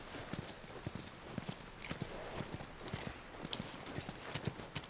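Horse hooves clip-clop at a steady walking pace in the video game The Last of Us, rhythmic and fairly close, with a faint background murmur.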